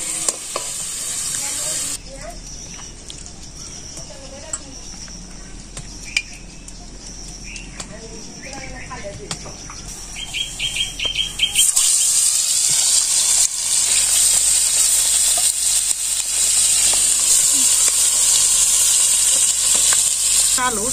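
Potatoes fry in oil with a continuous sizzle and occasional stirring scrapes, louder and brighter in the second half, while people chat nearby over the cooking.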